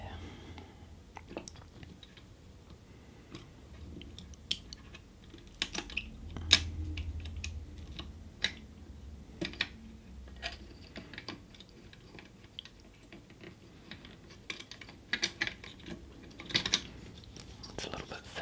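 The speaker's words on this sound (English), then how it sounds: "put it onto this side so that we can wind the new film onto here" A new roll of plastic film being wound onto a camera spool by hand, heard as soft close-up ticks, clicks and fiddly rustles scattered across a quiet background, with a faint low hum partway through.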